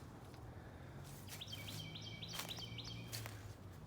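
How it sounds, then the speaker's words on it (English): Several birds chirp in short repeated high trills on an evening walk outdoors, moderately close over a low steady hum of background ambience, with no talking. "Hear the birds?"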